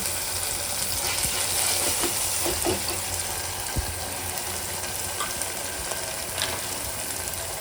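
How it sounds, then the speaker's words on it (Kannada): Masala sizzles steadily in hot oil in a pan for Udupi hotel-style tomato bath, a dense continuous crackle with occasional small pops and no voices. "ಇದು ಫ್ರೈ ಆದಮೇಲೆ ಎಣ್ಣೆ ಬಿಡೋಕೆ ಸ್ಟಾರ್ಟ್ ಆಗುತ್ತೆ ನೋಡ್ರಿ"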